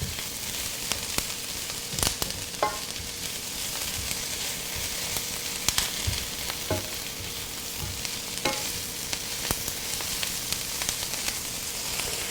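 Onions caramelizing in a pan on medium heat, a steady soft sizzle with occasional stirring scrapes and faint pops, with no voices.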